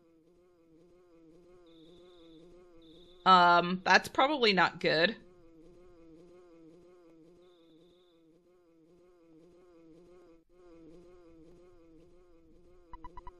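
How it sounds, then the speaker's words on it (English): A steady, wavering buzz of a bee flying around in the video game EarthBound continues under a short burst of spoken words in the middle. "do you hear a buzzing that sounds like a bee flying around?"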